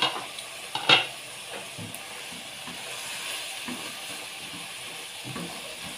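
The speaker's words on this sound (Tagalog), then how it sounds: "Ayan, kumukulo-kulo na. At pwede nang halo-haloin uli." Baguio beans with ground meat simmer and sizzle in a pan while a utensil scrapes and stirs, a few sharp clinks near the start, then a steady soft bubbling hiss.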